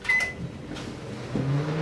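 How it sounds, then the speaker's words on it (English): A Panasonic microwave oven defrosting bread: a brief high beep at the start, a few clicks and clunks, then a low steady hum as it runs. "So we're gonna need to defrost it with our microwave. Now this is a Panasonic microwave, right?"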